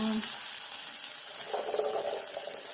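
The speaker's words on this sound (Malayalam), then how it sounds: "കടുക് ഇപ്പം താളിച്ചെടുക്കുവാണേ" Mustard seeds tempering in hot oil for a roasted-coconut sambar, a steady hissing fry with faint crackle and a short spoon scrape, heard close with no speech.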